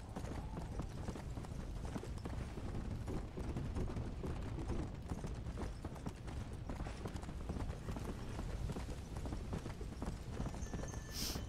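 Steady, rapid clip-clop of galloping horse hooves in the video game Red Dead Redemption: Undead Nightmare runs throughout, dense and continuous, with a faint mechanical clatter underneath.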